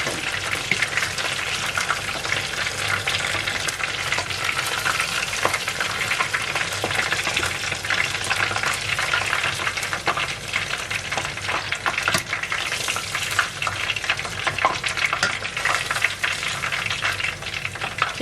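Battered chicken breast deep-frying in hot oil, a dense, steady crackling sizzle that stays loud and close throughout with scattered sharper pops.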